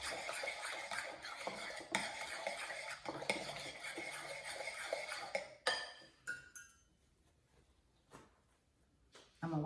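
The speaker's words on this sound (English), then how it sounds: "I'm going to take my spoon and mix that together" A spoon stirs vanilla and egg into mashed bananas in a bowl for banana bread, with steady scraping and clinking against the bowl for about five seconds before it thins to a few sparse, faint clinks.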